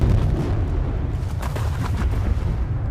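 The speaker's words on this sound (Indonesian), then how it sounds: "para pekerja meledakkan sebuah bongkahan batu besar yang mengganggu pekerjaan mereka" A large boulder blasted apart with explosives in a film scene, heard as a dense, sustained low rumble with crackling debris that stays loud for the whole stretch, with no voices.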